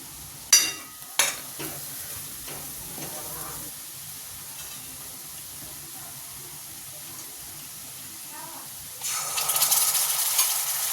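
Pav bhaji masala and red chilli being stirred with a spoon, a few sharp metallic clinks early and then a quiet stretch with soft scraping, ending in a louder burst of sizzling or rushing noise.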